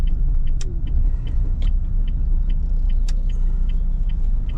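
A car driving in traffic on a grey day, a steady low road rumble with regular faint ticking clicks over it, close and continuous, with no talking.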